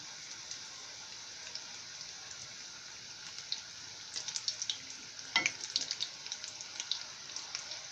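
Breadcrumbed onion rings fry in hot oil, a faint, steady sizzle with scattered crackles and pops that grow busier partway through.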